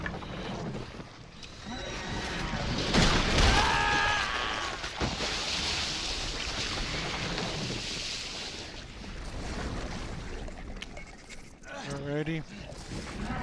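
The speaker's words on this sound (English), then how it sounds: "See, there's wind everywhere." Wind blows in Resident Evil 7, a broad whooshing gust that swells and fades under game sounds and someone talking over it, moderately loud throughout.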